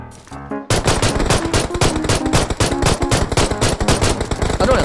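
Gunfire in the video game Peacekeeper Elite: loud, dense automatic bursts of rapid rifle shots firing almost without a break after a brief quiet start.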